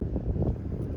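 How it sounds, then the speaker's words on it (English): Gusty wind buffets an outdoor microphone, producing a steady, loud low rumble with rough fluctuating bursts throughout, and no speech. "I'm just going to move to another spot again because this is too windy here."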